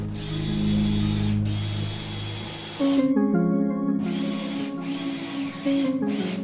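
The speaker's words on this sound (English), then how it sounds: "Clamp the pieces and screw them together." A power drill whirs in bursts with brief pauses, motor pitch rising and falling as it drives screws into wood, close and fairly loud with mechanical clatter.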